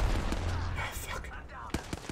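Gunfire during an Apex Legends match: a scattered burst of sharp shots, some in quick succession and others isolated, mixed with game noise and faint talk, moderately loud.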